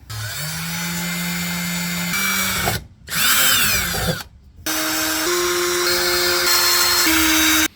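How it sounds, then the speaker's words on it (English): A power drill whines steadily at changing pitches, stopping twice briefly, grinding up close through the aluminum hull of a jon boat, drilling small holes at the ends of cracks. "you're actually going to drill out the end of these cracks"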